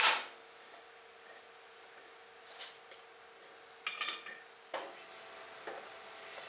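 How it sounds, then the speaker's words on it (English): A thread tap cuts into a wooden sander disc, heard as faint, close scraping and rasping turns. A few soft clicks and scrapes are spaced out over a quiet background. "Tapping wood, much easier than tapping the carbide tip lathe tools."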